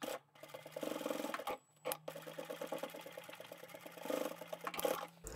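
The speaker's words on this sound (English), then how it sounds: "I'm going to stitch those together so that it stays in place inside the bag" A sewing machine stitches the lining of a quilted fabric handbag together, running in a steady rapid mechanical whir with short pauses between bursts, close and fairly quiet.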